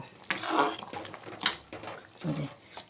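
A pot lid is lifted off a simmering pan of paneer curry. A brief metallic clink and scrape sound close by over soft bubbling, with no voices.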